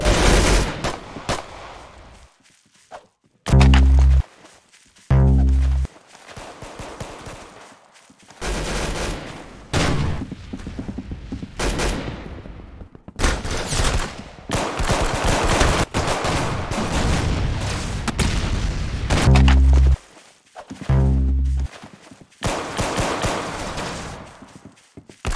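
Gunfire in the Arsenal video game: loud bursts of rapid shots recur across the span, with short sharp volleys near the start and again later, amid continuous busy game noise and no talk.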